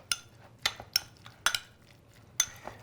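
A utensil clinks and scrapes against a bowl while fresh salmon tartare with olive oil and chive is mixed, giving several light, close taps at an irregular pace in a quiet kitchen.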